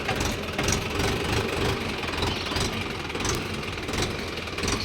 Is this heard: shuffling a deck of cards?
no